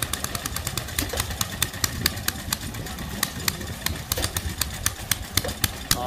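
A small stationary engine driving a water pump chugs steadily with rapid, regular putters at a steam and traction rally, close by and continuous, with no talking.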